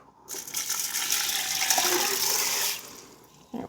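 Six cups of water pour into a pot for vegan split pea soup, a steady splashing gush lasting about two and a half seconds, close by, then quickly tapering off.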